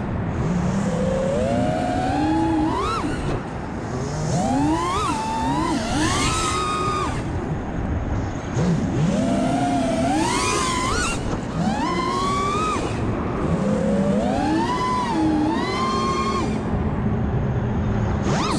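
Propellers of a 6S FPV drone in freestyle flight whine loudly and continuously, with repeated surging pitch sweeps as the throttle climbs and drops in waves; no talking.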